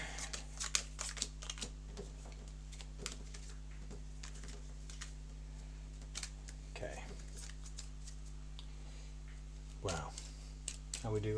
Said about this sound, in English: Let's do a proper shuffle for you as well